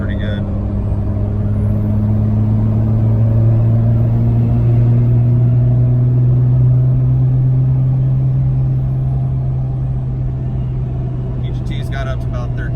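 A 2014 Ram 2500 with a Cummins diesel, swapped to an S465 turbo on a 2nd gen T4 manifold, cruising at about half throttle: a steady, loud low drone of engine and road rumble inside the cab.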